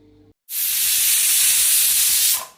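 A kitchen pressure cooker whistle releases steam in one loud, sustained hiss lasting about two seconds, starting abruptly after a brief quiet moment and cutting off at the end.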